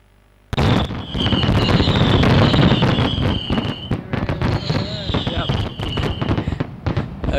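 Fireworks going off at a conference launch event in Mumbai, a sudden loud barrage of bangs and crackles with whistling rockets, continuing for several seconds amid crowd noise.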